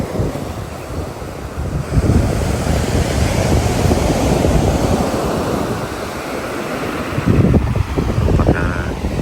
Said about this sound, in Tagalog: marinig natin ang hampas ng mga alon, huni ng mga ibon